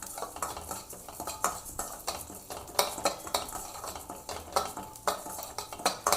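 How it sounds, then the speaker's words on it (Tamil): Moong dal roasting in ghee in a pan for nendran banana and date payasam, stirred with a utensil: steady, close scraping and clinking strokes at an uneven rhythm over a faint sizzle, with no talking. "பாசிப்பருப்பு வறுக்க போகிறோம். அதுக்கு கொஞ்சம் நெய் போட்டுக்கலாம்."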